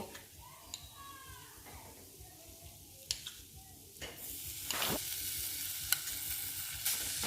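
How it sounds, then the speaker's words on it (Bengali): Sandesh being stirred into a pan mixture for dudh puli with the gas turned off, quiet spoon scrapes and clicks against the pan. Faint speech comes early, and a brighter hiss and louder scraping build toward the end. "সন্দেশটা দিয়ে ভালো করে নাড়াচাড়া করে নেব যাতে সব সন্দেশটা এর মধ্যে মিশিয়ে যায়"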